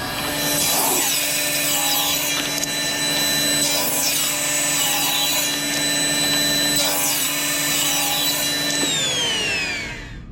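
A table saw rips wooden boards down to width for cabinet trim, its blade whining steadily and loudly through the wood for about ten seconds, with shifting pitch as the cut proceeds and the motor winding down at the end.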